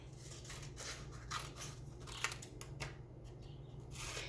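Scissors snip through paper strips in a quiet room, a few soft, crisp cuts spaced irregularly with faint rustling between them.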